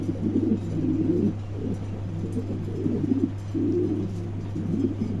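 Pigeons, two pairs on offer for sale, coo in repeated low rolling bursts, close and steady, with a constant low hum beneath and no talk.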